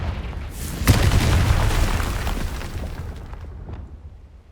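A Confringo fire spell explosion in Hogwarts Legacy lands as a single sharp boom, then rumbles and crackles before gradually fading away.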